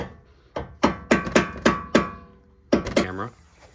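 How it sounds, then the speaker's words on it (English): A bolt is tapped with a hammer to free a part while pulling the engine from an Infiniti G37x: about eight sharp metallic knocks in an uneven rhythm, close and distinct, with a short pause before the last few. "if you just take a bolt and you tap that into there and you just keep tapping until it sets free"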